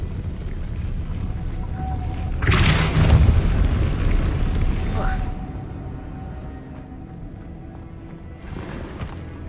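A Depulso force spell cast in Hogwarts Legacy, a sudden whooshing burst with a bright sustained shimmer lasting a couple of seconds, followed later by a shorter flare, over a quiet ambient game background.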